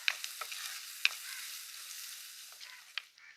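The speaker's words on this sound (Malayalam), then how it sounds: "ലേശം കറിവേപ്പിലയും കൂടി ഇട്ട് കൊടുക്കാവേ നന്നായി വാടി വരട്ടെ" Ginger, garlic, shallots, green chili and curry leaves sautéing in a pan for fish curry, a quiet, airy sizzle punctuated by several sharp ticks and taps of a spatula.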